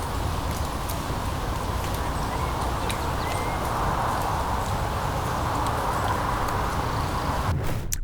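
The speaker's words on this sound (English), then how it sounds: "There is traffic and birds and all that kind of stuff." An outdoor recording of ambience: a continuous low wash of road traffic rumbles throughout, with faint bird chirps scattered above it and no one speaking.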